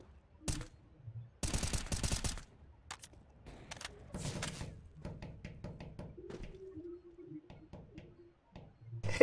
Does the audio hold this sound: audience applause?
no